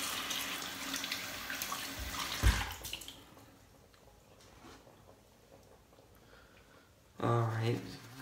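Bathroom tap running briefly as water wets a face before shaving, a soft splashy gush in the first few seconds, then quiet handling sounds and a short burst of talk at the end.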